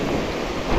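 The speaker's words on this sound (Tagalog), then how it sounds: "Umuulan na rito." Steady rain pours during a gathering storm over a lake on Talim Island, a dense continuous hiss with low rumbling underneath, close and fairly loud, with no voices.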